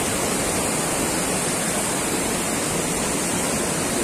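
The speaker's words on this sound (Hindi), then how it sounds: "पानी की आवाज वाह बहुत ही जबरदस्त।" Steady roar of rushing water at Bhatinda Falls, a waterfall tumbling over rounded rocks, heard close and loud as a continuous broadband wash with no talking.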